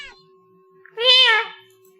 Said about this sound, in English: The cat sounds annoyed with you.